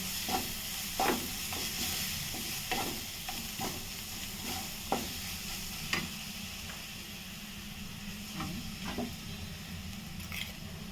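Potato vada filling with a little turmeric sautéed in a pan gives a low, continuous sizzle. Sharp spatula scrapes and stirs land at irregular moments over it, close by, with no talk.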